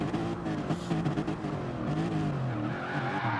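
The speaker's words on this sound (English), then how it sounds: "once he gets onto the asphalt, he seems to slide once more" Gr.3 race car sliding on cold, dirty tires at Monza in Gran Turismo, a video game: a continuous loud tire skid and scrub over a droning engine note that shifts in pitch, with no talk.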